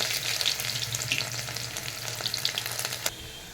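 Chopped garlic and onion fry in hot oil with dried red chillies, giving a lively, close sizzle with crackling pops and stirring scrapes and no speech.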